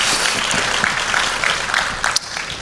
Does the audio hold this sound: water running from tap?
no